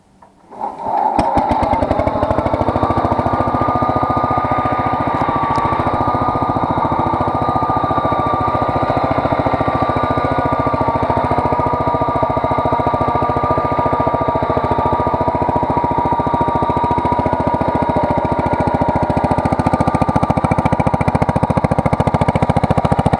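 A Wheel Horse 953 lawn and garden tractor engine cranks, catches and then runs steadily and loudly at a constant idle, close up and alone.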